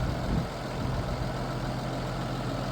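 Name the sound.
tractor engine idling with seed drill attached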